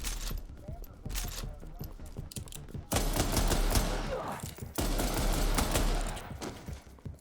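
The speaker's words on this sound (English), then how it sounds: "it is a 6-shot quick fire. Reloads when it's out." A six-shot quick-fire weapon in the RE:Verse video game fires in dense bursts of rapid shots, with a loud sustained volley from about three seconds on, over busy game sound.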